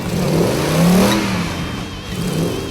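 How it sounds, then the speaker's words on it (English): A Jeep's V8 engine revs up loudly through a Magnaflow exhaust, rising to a throaty roar and easing back, close and alone. "The Magnaflow exhaust sounds awesome"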